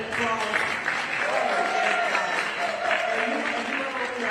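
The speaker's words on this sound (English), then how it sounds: "a round of applause." Audience applause at a civil rights roundtable, a continuous clapping wash mixed with crowd voices and cheers running through the whole stretch.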